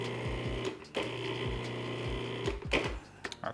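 A food processor pulses dry pancake ingredients in a kitchen, making short, close, rhythmic whirring bursts that repeat several times in quick succession.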